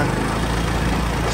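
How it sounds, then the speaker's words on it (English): A scooter engine running in cold weather, a steady close, loud motor drone with a slight rise in revs, no talk over it. "it's cold here, you know, it kind of revs up and then"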